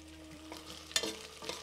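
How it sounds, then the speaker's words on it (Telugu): Pieces of mutton frying in a pan for soup, a low steady sizzle with a few soft stirring scrapes and one sharper clink, close and fairly quiet. "ఫ్రై అయింది"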